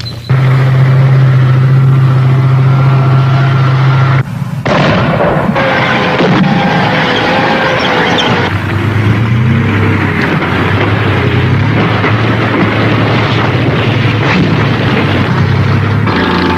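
Soviet mine-clearing tanks advance through a minefield, a loud, steady rumble of heavy engines and tracks broken by a sudden deep blast, after which the grinding mechanical roar carries on.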